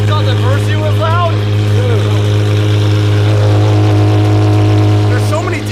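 An Apollo supercar idles loudly close up, with a deep, steady engine rumble under people talking in the foreground throughout.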